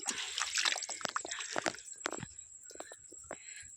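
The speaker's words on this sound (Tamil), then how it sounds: "இந்த கப்பில் ஒரு கப்பு நல்லா வேரை பார்த்து ஊற்றிடுங்க" Liquid plant fertilizer is poured from a cup onto plant roots, giving soft, faint splashes and trickling drips in short irregular bursts, close by.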